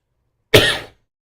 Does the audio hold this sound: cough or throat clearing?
yes